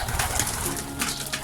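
Imported racing pigeons in a loft make soft, steady cooing and low murmuring, close by, with a continuous bird chorus and no clear speech over it.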